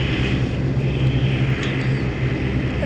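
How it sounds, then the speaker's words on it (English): A steady, loud airliner engine drone rolls on in a flight simulator game right after landing. A low hum stays constant with no pauses and no talk. "what is wrong with this airplane right now?"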